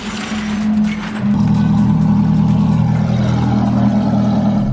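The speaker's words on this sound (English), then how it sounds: "you can't even hear this car idling over the idle of the Ferrari" A Ferrari 430 engine idles with a deep, steady, loud rumble that steps up slightly in level and holds there, with no talking.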